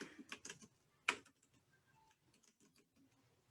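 Keyboard typing in short bursts of quick, crisp clicks with one sharper tap, close by and fairly quiet, with brief pauses between strokes and no talking.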